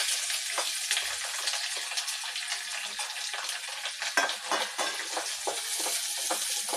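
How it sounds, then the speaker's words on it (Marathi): Finely chopped onion fries in a pan, a steady bright sizzle with occasional crackles and stirring scrapes throughout, close and alone. "तोही छान गुलाबी रंगावर मी परतून घेणार आहे"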